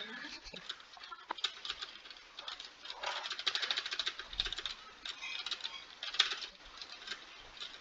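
A computer keyboard's space bar gets hammered in fast, irregular bursts, quiet clicky pattering that rises and falls in intensity, with no one speaking over it.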